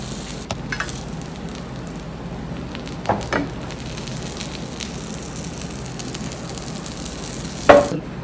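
Butter melting and sizzling in a pan while making a bread omelette, a steady soft frying crackle with a few brief clinks, no talking.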